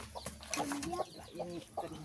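Chickens cluck softly in short, irregular calls, fairly close but faint, with rustling and handling noises around them.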